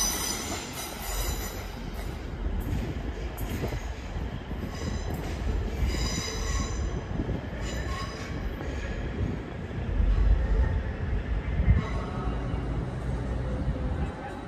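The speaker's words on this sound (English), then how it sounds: "one of these Azumas is about to depart for Edinburgh." An LNER Azuma train at London King's Cross station gives a continuous rumble, with squealing wheels and hissing bursts, under faint station background voices.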